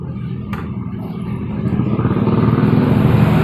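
A Honda Beat motorcycle engine is started with its electric starter at close range, the loud, steady running rumble building and growing slightly louder over a few seconds.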